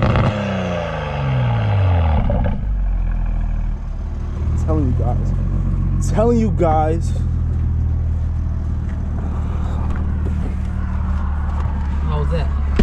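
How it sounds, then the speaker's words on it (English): A Toyota A90 Supra's engine rumbles steadily with a deep exhaust note, and a couple of rising revs, heard from outside the car while someone talks over it. "Hear the exhaust from over here."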